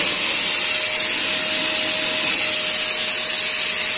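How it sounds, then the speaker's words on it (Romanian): A vacuum cleaner hooked up to a laptop to cool it roars in a loud, steady whoosh with a constant whine, running unbroken from start to finish. "Conectăm aspiratorul la calculator."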